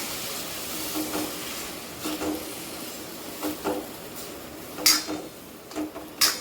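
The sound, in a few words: fenugreek greens added to pan and stirred, sizzling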